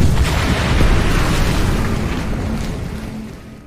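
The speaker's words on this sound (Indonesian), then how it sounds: "dia meledakkan jembatannya bersama dirinya sendiri" A bridge blown up in a war film battle against Nazi tanks, one huge sustained rumbling blast that fills the whole moment and slowly fades, loud and close, with no voices.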